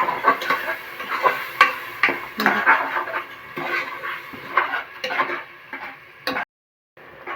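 Ground green chili paste dry-fried in a pan for village-style avarekalu sambar, with quick, irregular scraping and tapping of a spoon against the pan, close and fairly quiet, ending in a short pause.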